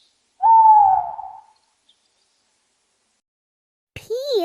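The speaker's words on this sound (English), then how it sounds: "They can see really well at night and make a hooting sound." A single long, clear owl hoot rings out loud and alone against silence, fading after about a second, followed by a brief unrelated higher sound near the end.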